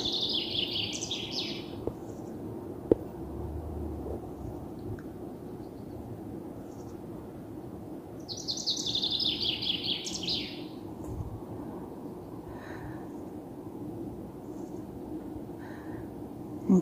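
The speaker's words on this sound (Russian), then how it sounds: "Где-то зяблик." A chaffinch sings outdoors at sunrise, two bright descending trilled phrases some distance away separated by a long gap, over a steady low rumble of wind or distant traffic; nobody talks.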